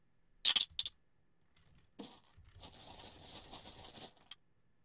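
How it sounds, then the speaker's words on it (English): Tokens or game cards shuffled during a Sharp Practice 2 tabletop wargame, a few quick clicks and rattles followed by a longer rustling, scraping shuffle up close, in a quiet room without speech. "Shuffle it up."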